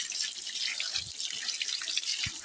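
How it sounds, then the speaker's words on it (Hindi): Strong water gushing from a household tap onto hands being washed, a steady close hiss with a couple of soft low thuds of splashing. "आज तो पानी आ रहा है नल पे बहुत।"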